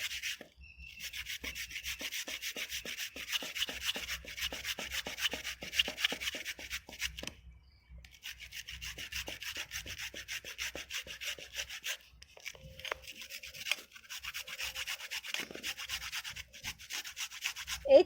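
Kohlrabi is rubbed against a hand grater in a home kitchen, producing a long run of quick, rhythmic rasping strokes close up, with one brief pause partway through and no talking.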